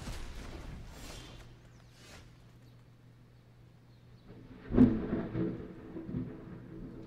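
Thunder from a nearby lightning strike in Virginia, a sudden loud rumbling crack that swells and rolls on for a couple of seconds after a quieter stretch of background noise.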